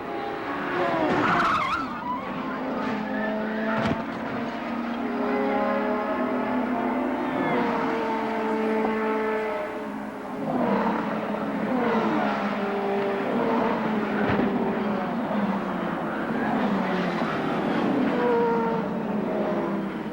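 Open-wheel CART race cars crash at Phoenix in 1994, tires squealing and skidding loudly as engines roar, the shrieking slides sweeping in pitch over a sustained, busy wash of motor noise with no talk.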